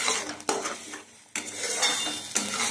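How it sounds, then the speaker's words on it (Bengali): Ghetkol leaf paste and spices fry in hot oil in a wok, a steady sizzle broken by sharp scraping stirs and clanks of utensils against the pan, close and fairly loud with no talking. "কড়াইতে তেল গরম করে আমি ঘ্যাটকোল পাতা বাটা দিয়ে দিয়েছি, আর সেই সাথে মশলাটাও দিয়ে দিয়েছি।"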